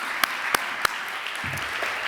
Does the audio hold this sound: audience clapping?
yes